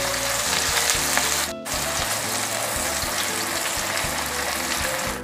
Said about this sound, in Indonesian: Saya tumis dulu bawang merah dan bawang putih yang sudah diiris tipis